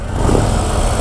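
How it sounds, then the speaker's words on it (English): The exhaust of a 2025 Harley-Davidson Low Rider S motorcycle rumbles in a brief, steady, fairly loud low burst, sitting in neutral with no talking. "let's check out the exhaust."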